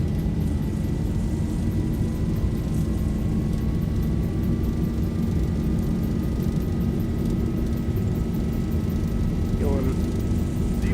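Boeing 737-800 in the X-Plane 11 game taking off in a crosswind at Cape Town, a loud continuous engine roar with a rising whine, under occasional talk.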